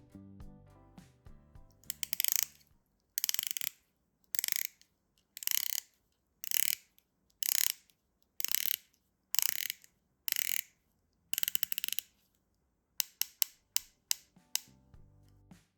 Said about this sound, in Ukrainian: Сталевий односпрямований безель на 120 кліків, синя вставка із кераміки.